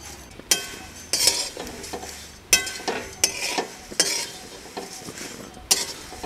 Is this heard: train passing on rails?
no